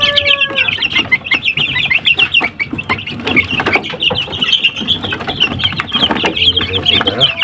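Young Joper chickens about three weeks old cluck and peep continuously and close by, with busy overlapping chirps, while someone talks over them.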